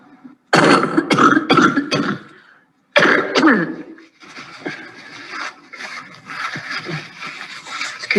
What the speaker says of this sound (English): If you need to cough, that's fine.